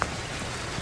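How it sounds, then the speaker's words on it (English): Rain falls steadily on a golf course during a professional tournament's final round, a close, even patter with no voices. "Rain definitely starting to pick up now."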